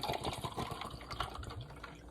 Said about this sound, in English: and then all I'm gonna do is just pour it in.